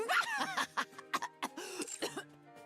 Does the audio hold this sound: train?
no